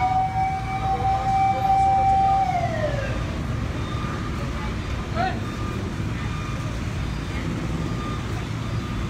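Fire truck sirens wail and fall in pitch as the trucks arrive at a fire at Barangay 226, Almeda corner Tayuman, Sta. Cruz, Manila, fading after a few seconds into steady street and crowd noise.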